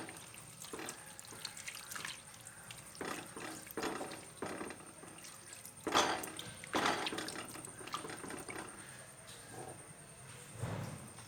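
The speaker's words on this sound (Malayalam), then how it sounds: "നമ്മൾ ഇതിലേക്ക് രണ്ടാം പാൽ ഒഴിക്കുകയാണ്" Second coconut milk being poured into a simmering prawn curry with dried mango peel, a steady liquid pour with splashing and trickling bursts, fairly close and moderately loud, with no talking.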